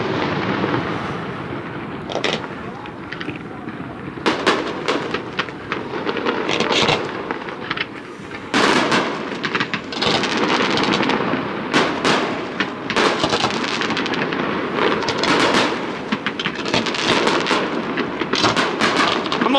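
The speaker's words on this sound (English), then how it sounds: "What is it with Italians and fireworks?" Fireworks bursting over an Italian harbour with boats, a rapid irregular barrage of sharp cracks and booms at middle distance, dense and continuous throughout.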